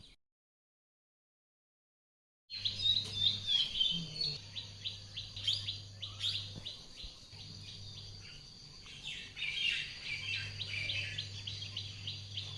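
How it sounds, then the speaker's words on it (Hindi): After a couple of seconds of silence, many birds chirp and tweet busily outdoors over a steady low hum, the calls overlapping continuously. "बाहर चिड़ियाँ चहचहा रही हैं"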